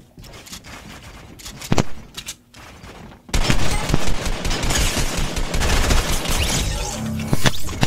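Rapid automatic gunfire in a first-person shooter game played on a gaming laptop, dense bursts of rattling shots filling most of the stretch after a quieter opening with a few isolated shots.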